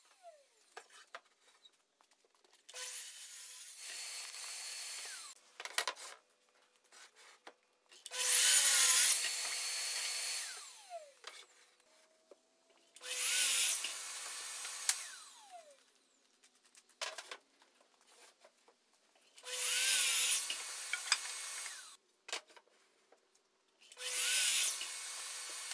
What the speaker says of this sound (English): the first job is to cut all the rafters to length.